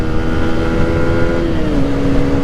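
A motorcycle running on Amsoil engine oil revs hard and shifts smoothly through second and third gear, its loud, steady engine drone rising and settling close to the listener.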